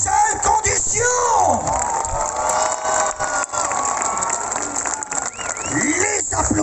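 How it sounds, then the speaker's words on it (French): At a Halloween show at OK Corral, an audience applauds and cheers, with whoops and shouting voices rising over the clapping in a lively, fairly close crowd. "Applaudissements du public"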